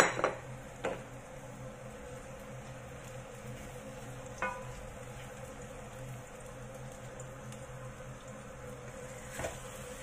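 Bitter gourd (ampalaya) frying in oil in a pan gives a faint, steady sizzle, broken by a few sharp clinks of a utensil against the pan.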